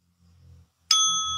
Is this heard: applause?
no